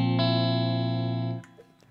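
An electric guitar with humbucker pickups plays through an amp's clean channel: one strong sustained chord rings out, stays steady, then is cut off abruptly, with faint pick and string noise after it.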